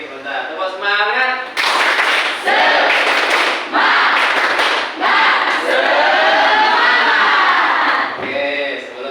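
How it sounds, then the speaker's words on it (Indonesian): Vocational high school students in a math class do a rhythmic spirit clap, bursts of patterned group clapping punctuated by loud unison shouts, energetic and close in a classroom. "Tepuk semangat."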